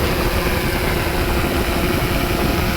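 Close and loud, the steady buzzing whir of an Xdynamics Evolve drone's motors holds constant as it comes in to land in gusty wind, with no voices.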